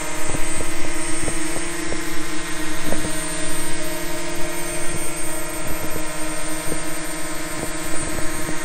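A DJI Mavic Mini drone flies nearby, giving a loud, steady, high-pitched propeller whine with a constant tone. Faint clicks sound now and then over the whine, which lasts about nine seconds.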